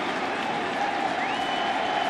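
A World Series baseball stadium crowd cheers and applauds. The dense, steady roar of clapping and voices holds at an even level throughout, with no single voice standing out.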